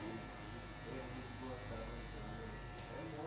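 Electric hair clipper buzzing steadily and close up while polishing a mid fade haircut, a continuous hum with faint talk in the background.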